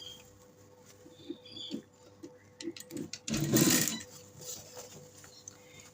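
A sewing machine runs close by, stitching along fabric piping on a baby shirt with a fast whirring patter, including a louder sustained stretch of stitching near the middle.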